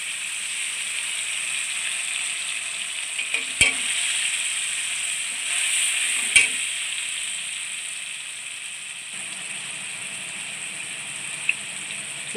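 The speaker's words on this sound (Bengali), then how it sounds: "লঙ্কা টমেটো আদা তিনটিকে একসাথে একটু সামান্য ঘিরে গিয়ে আমি বেটেছি সেটা আমি তেলের মধ্যে দিয়ে দিলাম" A paste of ground chili, tomato and ginger hits hot oil and sizzles with a steady, close hiss. Two sharp utensil clanks cut in partway through.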